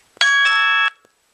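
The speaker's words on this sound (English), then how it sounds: "Doorbell." A phone doorbell ringtone sounds once, a bright sustained electronic chime of about two-thirds of a second with a short tail, clear and alone against silence.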